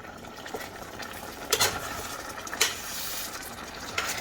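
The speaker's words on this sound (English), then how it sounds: "I added some more water so it can continue to boil without being stuck to the pan." Zucchini stew with added water bubbles and sizzles quietly in a pan, with a few louder scraping stirs of a spoon against the pan standing out from the soft, steady cooking hiss.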